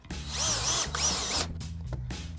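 A power drill drives a screw into a garage wall storage fitting, giving two close, loud bursts of whirring motor whine that rise and fall. No one speaks.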